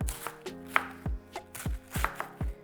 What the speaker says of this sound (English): we're gonna take half a cabbage. We're gonna cut this. Just do it in strips.